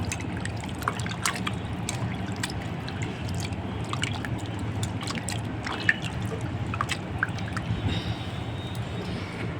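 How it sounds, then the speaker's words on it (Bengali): Raw chicken is rinsed in a home kitchen, with continuous running and trickling water and scattered small splashes and taps throughout, close and moderately loud. "তো চলো চিকেনটা পরিষ্কার করে ধুয়ে নিই, অল্প একটু নিয়ে এসছে।"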